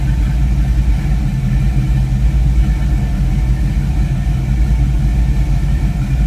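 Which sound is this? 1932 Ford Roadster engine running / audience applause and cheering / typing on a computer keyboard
1932 Ford Roadster engine running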